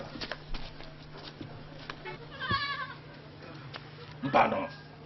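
Goats in a herd bleat a couple of times, one wavering call near the middle and another toward the end, amid faint background noise and occasional voices.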